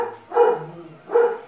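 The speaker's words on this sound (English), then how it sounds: "And then my dog's barking." A household dog barks twice, about a second apart, each bark a fairly loud, close, voiced burst with a low rumble between, and no talk over it.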